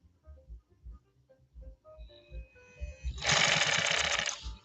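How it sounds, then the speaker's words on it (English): A 1950s Pfaff 130-6 sewing machine, recovered after a fall, stitches zigzag then straight on cotton thread; soft clicks and turning build into a loud, fast, steady whir for the last second and a half. "Zigzag and then a straight stitch on this fancy cone of cotton stuff"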